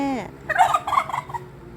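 A bantam rooster crows once, a brief strained call that starts with a falling tone and breaks into a rough, warbling burst, fairly close and clear.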